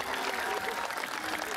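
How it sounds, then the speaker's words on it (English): Audience applause for ROTC scholarship recipients at an awards ceremony, a dense steady patter of many hands clapping that fills the whole stretch without a break. "Let's give one more round of applause for Cadet Tomazzini and all of our ROTC scholarship"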